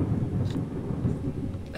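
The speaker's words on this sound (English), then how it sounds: "That fucking thunder, I wasn't anticipating that." Thunder from the horror video game Layers of Fear rolls as a deep, continuous rumble throughout the short stretch, loud and low with no voices over it.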